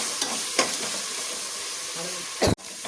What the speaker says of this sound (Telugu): ఉల్లిపాయల్లోనే అల్లం వెల్లుల్లి పేస్ట్ వేసి పచ్చివాసన పోయే వరకు వేయించుకుందాం.